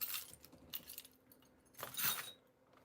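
A set of keys jangles in close, bright metallic bursts, a few separate rattles followed by a louder shake near the end.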